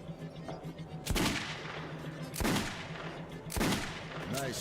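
Gunfire in Metro 2033 Redux: three heavy single shots spaced about a second and a half apart, each a sharp crack with a booming tail, over a steady low hum.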